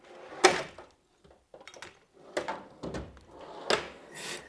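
A metal toolbox drawer on a Matco toolbox slides open with a few sharp metallic clatters and rattles of nut drivers and hex keys, in short separate bursts close by.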